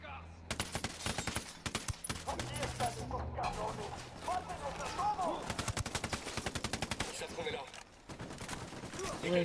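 Rapid bursts of automatic gunfire from the video game Ghost Recon Wildlands crackle almost nonstop, with dense volleys and short pauses, loud and close, while voices talk over the shooting.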